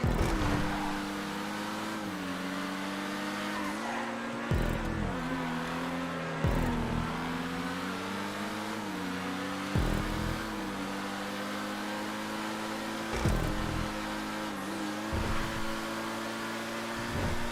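Itali GTO race cars in GTA 5 roar along a custom track, the engine note climbing and dropping through repeated gear shifts and throttle lifts, loud and close with no voices.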